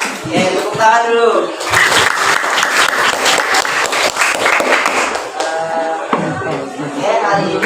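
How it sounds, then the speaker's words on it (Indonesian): Classroom applause, a burst of clapping from students lasting several seconds, with a teacher's voice speaking before and after it. "Oke, tepuk tangan dulu."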